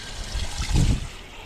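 Coconut vinegar mixed with water is poured into a cooking pot for eel paksiw. A brief, close, splashing trickle swells and then fades within a second or so.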